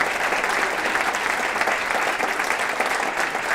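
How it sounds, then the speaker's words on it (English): A comedy show audience gives steady, dense clapping throughout, a full round of applause for the organizers of a charity auction, with no voices rising above it. "Whoever put all the auction items together, give them a round of applause, okay?"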